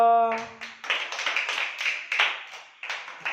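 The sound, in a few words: group clapping hands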